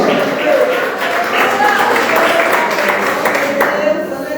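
Church congregation clapping during an evangelical service, a dense steady wash of hand claps filling the room, mixed with voices and sustained from start to finish.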